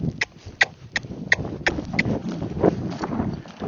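A Missouri Fox Trotter horse cantering, hoofbeats landing in an even repeated rhythm of about ten sharp thuds, fairly close, with faint wind noise behind.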